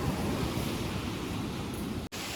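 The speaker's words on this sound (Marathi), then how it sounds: "आता नुसत्या लाटा एकदम कडक आपटतायत" Strong sea waves crash against rocks on the Konkan coast during a monsoon storm, a steady heavy roar of surf with wind noise and a brief dropout near the end.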